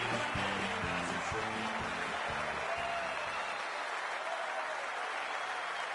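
Simulated stadium crowd in the AFL 26 football video game before a Collingwood Magpies VFL match, a steady dense roar of cheering and applause that holds constant, with a faint low tonal sound running underneath.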